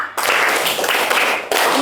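A classroom of children clapping hands together on the teacher's count, a dense burst of clapping filling the room close by, stopping briefly and starting again.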